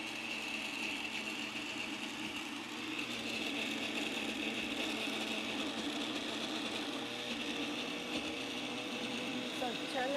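Blender running on high speed to mix a gut-friendly dessert, a loud continuous whirring motor drone holding steady throughout, with faint speech underneath.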